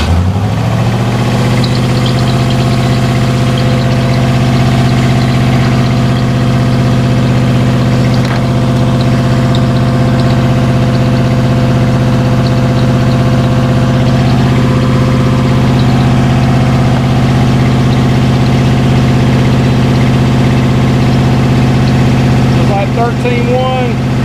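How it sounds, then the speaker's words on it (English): A project car engine runs at a steady idle throughout, a continuous low rumble close to the microphone with little change in pitch, while people talk over it. "Okay, go ahead and try to crank it now."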